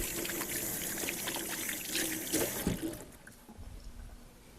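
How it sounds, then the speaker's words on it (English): Running tap water splashing over hands being rinsed in a home kitchen, a steady close pour that cuts off partway, leaving a few drips and soft handling noises. "Give my hands a quick rinse."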